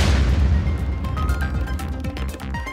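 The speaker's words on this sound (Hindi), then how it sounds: "छत्तीसगढ़ के नारायणपुर में ये धमाका उस आईडी बम का है" IED bomb blast near a police station in Narayanpur, Chhattisgarh: a heavy low boom opens the clip, followed by rumbling debris and scattered crackling pops fading over a few seconds, no speech.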